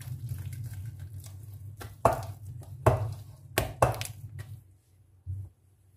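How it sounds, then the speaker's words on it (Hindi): A hand beats gram flour (besan) batter for pakoras in a bowl, making a steady wet slapping close up. A few louder, sharper thumps follow before the sound trails off into near silence, with no voices. "बेसन को हाथ की मदद से अच्छी तरह से फेंट लेंगे ताकि इसमें अच्छे से हवा पास हो जाए।"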